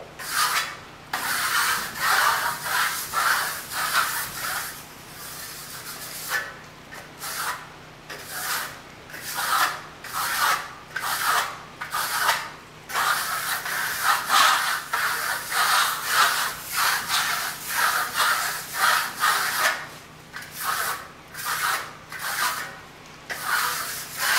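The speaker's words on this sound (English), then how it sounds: "You can get some burnishing from a steel trowel." Steel trowel compressing and burnishing American Clay plaster on a wall, a steady run of rhythmic rasping strokes, close and fairly loud, each sweep scraping across the surface with brief pauses between passes.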